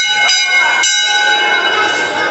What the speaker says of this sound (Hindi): मंदिर के अंदर घुसने से पहले घंटी बजाइए।